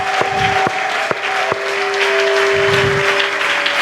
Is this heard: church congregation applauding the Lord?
yes